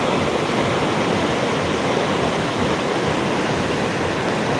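Rushing floodwater from rain that fell elsewhere, a dense, steady roar of fast-moving water, loud and continuous with no voices.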